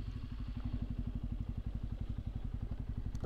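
A Bajaj Pulsar 250 motorcycle idles after stopping, its engine thrumming in a fast, steady low putter that stays even throughout at moderate distance with no talk.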